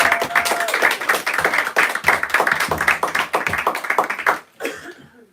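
Audience members at a comedy club applaud in a close, busy patter of claps that stops abruptly, followed by a few faint scattered sounds.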